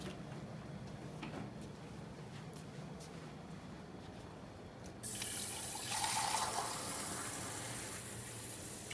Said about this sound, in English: So you just want enough water to fill up both of your conical tubes.